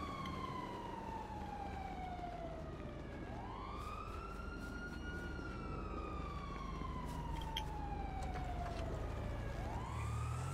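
A police car siren in GTA 5 wails in long rising and falling sweeps over a continuous engine and road rumble, loud and close throughout.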